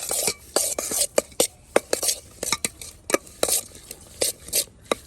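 Churmuri being mixed with green masala paste, salt and coconut oil in a bowl, a rapid run of sharp, close spoon clinks and scrapes in an uneven rhythm, with no talk.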